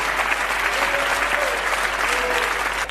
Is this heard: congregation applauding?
yes